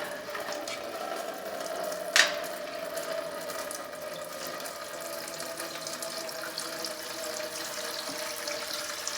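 Coolant running steadily out of a Honda GL1500 Goldwing's cooling system with the radiator cap off, a continuous faint trickle and splash with one brief louder knock near the start.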